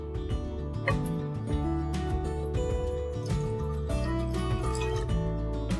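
Water being poured onto half a cup of toor dal that has soaked for half an hour, a soft liquid trickle and dripping heard close over a steady tonal background.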